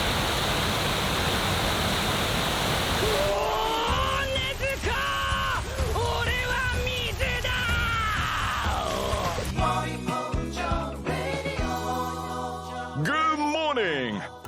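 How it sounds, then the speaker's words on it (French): An icy waterfall roars loudly and continuously as a person stands beneath it, at first alone and then with strained yells and shouts over the rushing water. "le but c'est de tenir un peu sous cette cascade."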